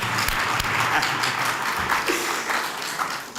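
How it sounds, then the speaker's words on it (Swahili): An audience applauding at a university trophy presentation, a dense, steady wash of many hands clapping at close range that carries through the whole short stretch. "Makofi."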